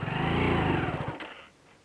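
A motorcycle engine is held near full throttle with a loud, buzzing, steady roar close by, then drops off sharply after about a second and a half to a faint low idle.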